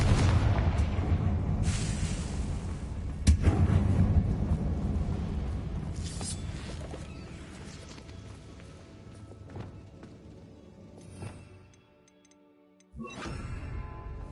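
Spell blasts from the Confringo curse in Hogwarts Legacy, cast inside an abandoned mine, land as several heavy booming explosions with rumbling, echoing decay, one sharp blast standing out before a brief near-silent pause and a final roar.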